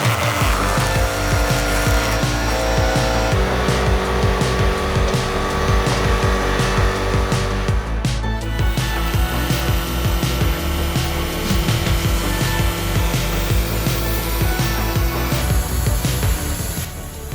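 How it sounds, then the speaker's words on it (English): A Cook's AC-36 portable hydraulic sawmill with a roughly 35-horsepower engine cuts through wood, its engine and blade roaring continuously and loudly, with repeated rasping bursts as the cut bites in. "Cook's AC-36 portable hydraulic sawmill cannot be ignored. With an engine of about 35 horsepower, this machine creates steady cutting power"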